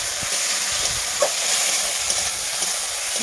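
Puti fish frying in hot oil in a wok, a steady loud sizzle and crackle that runs throughout with a few small pops, no speech.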